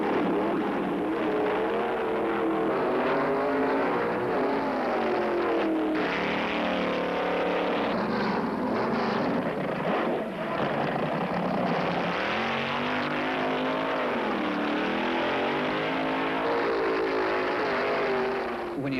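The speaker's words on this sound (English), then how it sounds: "When you spin the tires, it lays rubber in the ground." A loud, steady roar of a Mickey Thompson Mustang drag racing car engine revving hard, with a continuous rough grinding tone of tires spinning, sustained throughout without pause.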